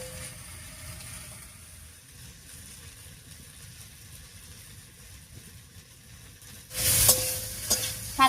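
Data greens cook down in a pan with salt while their released water boils off. A soft, low simmering sizzle runs throughout and swells into a louder burst of frying and stirring at the end, with no talking.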